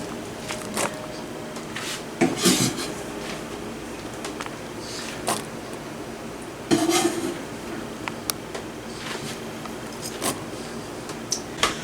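Onions being stirred into deviled egg filling in a bowl, with scattered spoon clinks and soft squishy scrapes arriving in irregular bursts against a quiet kitchen background.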